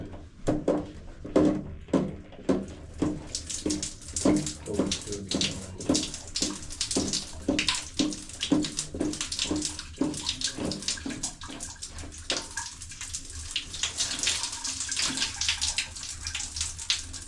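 A shower runs with water splashing and spattering in uneven bursts. The sound is close, continuous and fairly loud, with no voices.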